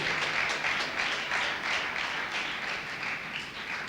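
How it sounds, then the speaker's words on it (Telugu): A church congregation claps loudly together during Sunday worship, a dense, steady wash of applause filling the whole clip with no speech over it. "చప్పట్లు కొట్టి గట్టిగా ప్రభువును మహింపరుద్దాం."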